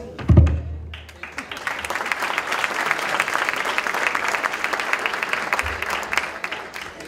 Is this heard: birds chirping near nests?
no